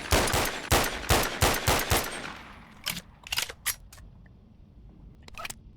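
A modded MK18 rifle fires in BONELAB, with a rapid burst of about eight sharp, loud shots over two seconds. A few scattered single shots and short double taps follow after a brief pause, with no talking.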